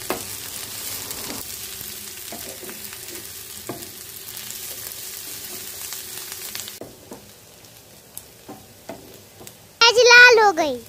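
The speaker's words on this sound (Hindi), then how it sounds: "पांच मिनट तक भूंजे।" Onions fry in a pan for a Jharkhand rugda mushroom curry, giving a steady soft sizzle with occasional stirring clinks. The sizzle drops quieter partway through, and a brief loud burst of noise comes near the end.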